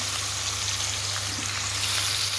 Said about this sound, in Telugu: ఆనియన్స్ వేగడానికి వేస్తున్నాను ఆయిల్ ఆయిల్లోనే వేపేస్తున్నాము